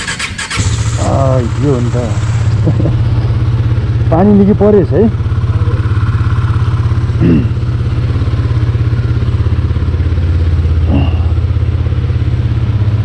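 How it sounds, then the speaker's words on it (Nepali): A motorcycle engine catches and settles into a loud, steady running drone close by, with someone talking over it throughout. "अब हेरम बाइक स्टार्ट गरौ"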